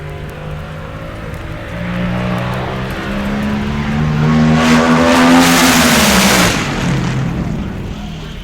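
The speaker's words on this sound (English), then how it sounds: "The sound that you just heard was that of the Crosley, Williams, and Swan A-Fuel dragster from Bakersfield, California" Crosley, Williams, and Swan A-Fuel dragster from Bakersfield, California, crossing the finish line at a drag race at over 190 mph, a loud engine roar rising as it passes, then falling away into crowd-like noise.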